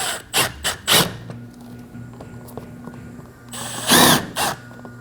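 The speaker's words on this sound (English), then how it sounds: "Install the screws for the fender liner." A power drill drives screws into the front inner fender liner of a 2012-2022 Volkswagen Passat, giving several short, loud whirring bursts near the start and again around the fourth second, with a steady low hum and quiet clatter between them.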